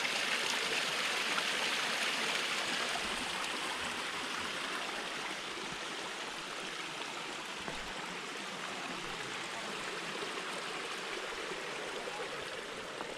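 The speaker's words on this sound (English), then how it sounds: "That's about as much of a waterfall as you're gonna see." A small waterfall at an old mill dam on the Old Mill Trail in Nockamixon State Park gives a continuous, even rush of falling and splashing water, close and steady throughout, with no talking.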